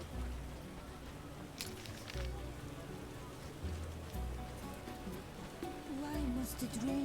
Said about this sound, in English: Why must it rain?